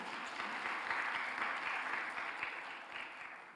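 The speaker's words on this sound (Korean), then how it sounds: "우리 박수 한번 해주세요." A congregation at a Friday evening church service applauds, producing a steady, even wash of many hands clapping at once, moderately distant, with no talk over it.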